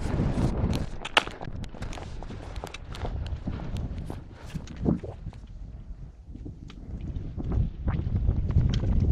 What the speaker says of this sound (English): The wind's starting to pick up here.